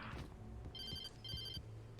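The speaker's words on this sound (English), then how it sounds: "We'll get a phone call." Telephone ringing in the video game Alan Wake: two bursts of an electronic ring, each about a third of a second, over a low ambient rumble and quiet background sound.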